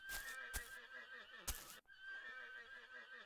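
Horses neigh in the video game Kingdoms, two sharp, bright whinnies about a second apart over a quiet, steady game backdrop, followed by a brief drop and softer continuing ambience.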